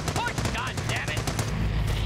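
Rapid machine gun fire crackles through a battle in the video game Company of Heroes, dense overlapping bursts running throughout, with a voice speaking over the shooting.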